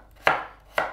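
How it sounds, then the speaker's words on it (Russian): Two sharp knife chops through potato into cubes on a cutting board, evenly spaced about half a second apart, close and crisp. "Итак, мы режем на мелкие кусочки,"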